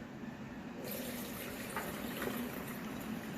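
Liquid pours steadily into a container at a backyard smokehouse during chicken thigh barbecue prep, a faint continuous trickle with no talk.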